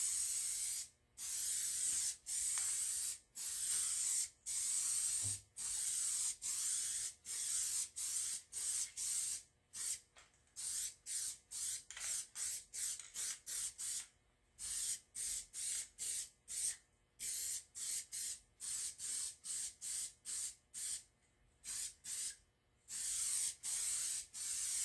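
Spray gun applies Case Orange paint to a Case D engine in a long series of short, sharp hissing bursts separated by brief pauses, close and fairly quiet overall.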